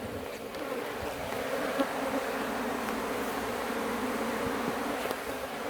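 Honey bees swarming around stacked hive boxes, a continuous close buzzing drone of many insects with occasional individual bees flying past, steady throughout, no talking.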